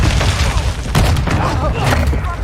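A Semtex sticky grenade explodes in Call of Duty Warzone, a single loud boom roughly midway through, set within a dense, continuous rumble of game noise and scattered sharp pops.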